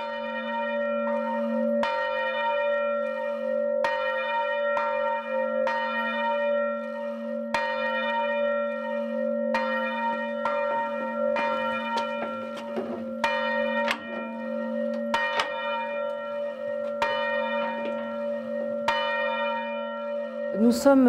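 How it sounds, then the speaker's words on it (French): Several church bells in the bell chamber of the south tower of Tours cathedral, over 400 years old, ring close and loud, with repeated strikes over a steady sustained hum, continuing throughout. "Nous avons ici quatre cloches visibles qui sont des objets religieux qui ont tout un nom."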